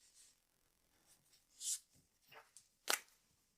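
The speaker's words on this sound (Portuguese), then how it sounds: "E aqui eu só vou fazer um L e uma seta, ou 2, para me mostrar de que lado está." A marker is drawn across masking tape to form an L and arrows during wall marking-out work, giving a few quiet, short squeaky strokes with soft gaps between them and no talk.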